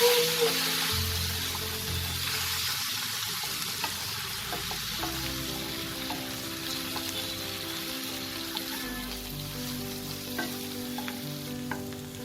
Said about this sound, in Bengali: মশলাটাকে আমি 1 মিনিট একটু নাড়াচাড়া করে খুব ভালো করে কষিয়ে নিয়েছি